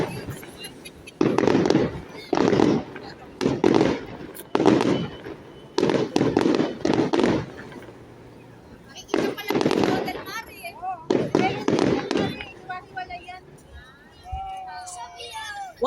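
Repeated loud fireworks bursts in quick volleys, each a crackling boom, separated by short pauses, with people calling out and chattering between them, at an Israel Independence Day celebration in Ashdod.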